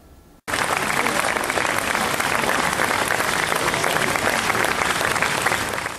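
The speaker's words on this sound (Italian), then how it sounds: "un lungo applauso di amici, colleghi e sostenitori ha accolto l'arrivo del feretro" Long, sustained applause from a large crowd of friends, colleagues and supporters greeting the coffin at Giulio Andreotti's funeral outside a church in Rome, starting abruptly and holding steady and loud, with no talk over it.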